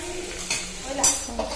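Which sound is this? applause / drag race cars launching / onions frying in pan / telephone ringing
onions frying in pan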